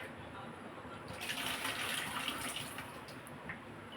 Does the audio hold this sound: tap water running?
yes